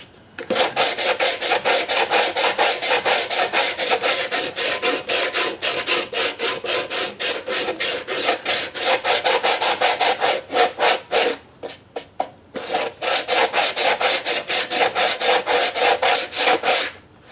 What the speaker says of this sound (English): Pretty awkward sanding on this this thing here